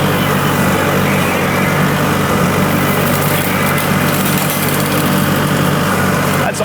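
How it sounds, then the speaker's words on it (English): A Laneshark Hammerhead mower mounted on a 50–60 horsepower mid-frame tractor cuts vegetation with a loud, constant engine drone and whirring blades, close and unbroken for the whole stretch. "When you can mow like this, you start to understand why people like these things."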